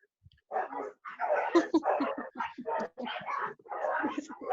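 A dog barks in a rapid string of short, fairly quiet yips and woofs close to a participant's microphone during an online class.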